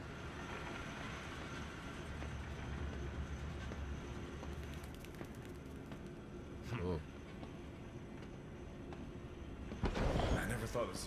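Train rumbling along in the horror zoo game Zoochosis, a steady low rolling drone with a few brief clanks and a louder burst near the end, with people talking over it.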